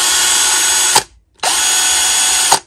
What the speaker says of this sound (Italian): Durante il rilascio del tasto sentirete un rumore di ingranaggi che è pure normale ed è il sistema quick stop che arresta la rotazione del mandrino in modo immediato